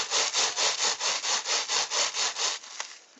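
Wet felt for a felted poppy being rolled diagonally, giving about a dozen even, rhythmic rubbing strokes up close before the motion stops and the sound trails off.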